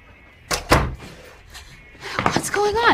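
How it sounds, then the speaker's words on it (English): A door thumps and rattles twice in an action movie scene, followed by more clattering handling at the door, with a voice speaking over the end. "Come on, open the door!"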